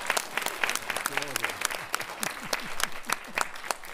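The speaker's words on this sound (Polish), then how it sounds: "nagrodźmy wszystkich tych męskich osobników wielkimi, gromkimi brawami" Steady audience applause fills a sports gala hall, dense clapping running throughout, with a voice speaking over it in the middle.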